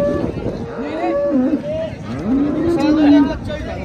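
A young Murrah water buffalo at a buffalo market gives two long, low, drawn-out moos close by, one after the other with a short pause between.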